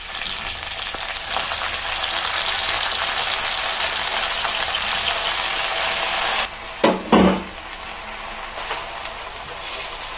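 Gongura leaves for pickle fry in oil in a pan, giving a continuous loud sizzling hiss, then a couple of sharp clattering stirs near the end, followed by a quieter sizzle.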